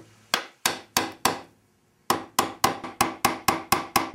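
A chisel is struck to square out router sockets in thick wood. Four sharp, close knocks are followed by a pause, then a run of about ten quick, evenly spaced blows.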